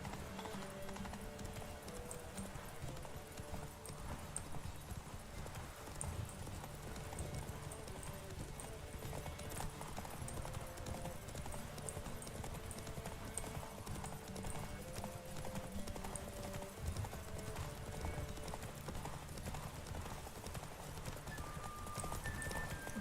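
Roach the horse gallops in The Witcher 3, a constant quick hoofbeat rhythm that stays moderately loud for the whole stretch, layered over background game music.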